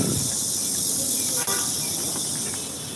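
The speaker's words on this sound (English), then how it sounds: "I can still hear how loud those grasshoppers are." Loud grasshoppers chirping outdoors in a village near Suzhou, a dense, continuous high-pitched buzzing drone that fills the whole stretch evenly and close, with no talking over it.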